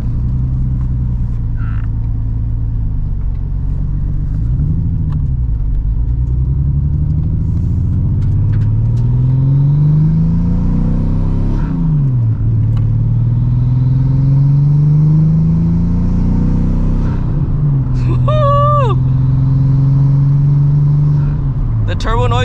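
A loud straight-piped Nissan R34 Skyline engine revs up and down repeatedly from inside the cabin, rising and falling pulls with a droning exhaust rumble and faint turbo whine.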